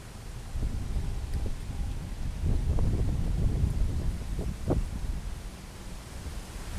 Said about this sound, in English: sorry, big wind gust.